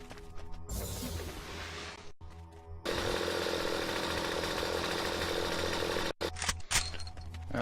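A chainsaw in the StarForge video game. Buzzing saw bursts alternate with a loud sustained revving stretch, broken by brief silent gaps, with no talking.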